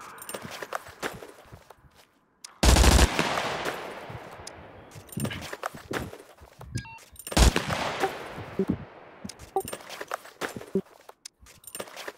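Gunfire in a video game set around an abandoned castle and war bunker, with a sharp loud burst followed by scattered clicks, thumps and footstep-like sounds, and a second louder shot later.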